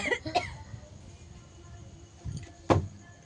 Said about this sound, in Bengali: একটুখানি যেন এই ফুচকার জ্বলে কাশি উঠে গেছে